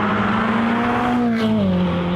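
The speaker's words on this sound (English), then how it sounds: "the screaming naturally aspirated V8" A Ferrari's naturally aspirated V8 in a convertible drones loudly and steadily, its pitch holding and then dropping slightly, with no speech.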